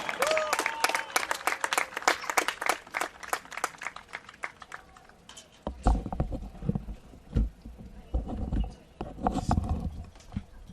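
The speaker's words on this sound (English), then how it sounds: "One more round of applause for Juliana Carrara." Outdoor applause at a women's college soccer game's senior recognition, at first sharp scattered claps, then a fuller, rumbling wave of clapping from the stands that swells and fades.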